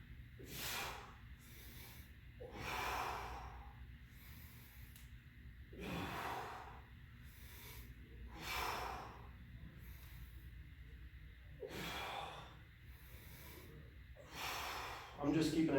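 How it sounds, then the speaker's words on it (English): Heavy, rhythmic breaths through nose and mouth during a single-kettlebell bodyweight workout, with about six strong exhales spaced a couple of seconds apart, close and fairly loud under a low steady background hum. "I'm just keeping a nice steady breathing pattern here."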